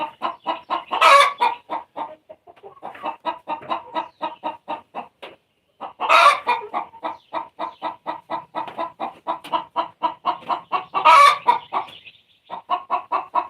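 Chickens in a coop: a steady run of rhythmic, close clucks in repeated bursts, broken every few seconds by a louder squawk, with no talking.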